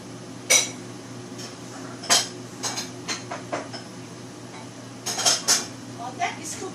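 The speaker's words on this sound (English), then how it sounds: "I'm going to bring a bowl to serve my soup so you can have a look" A bowl and dishes clink while vegetarian soup is served, with a few sharp, bright knocks spaced irregularly over a low, steady kitchen hum.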